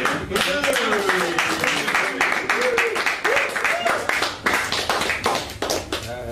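A small audience in Vagabond Cafe, North London, claps at a live gig, brisk close handclaps in an uneven burst while someone talks over them.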